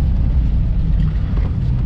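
Lifted Astro 4x4 van in third gear at about 2,000 RPM, a steady low engine drone with road rumble, loud and continuous throughout.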